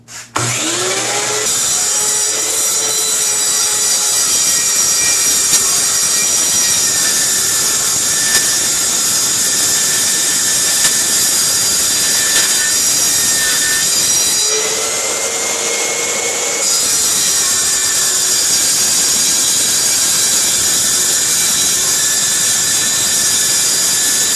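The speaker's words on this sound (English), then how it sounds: "I'm going to turn my blade on and then just ease it into the wood, into the material." A circular saw spins up and its blade is eased into wood, a loud sustained high-pitched whine with a short dip in load partway through, then steady cutting again, no speech.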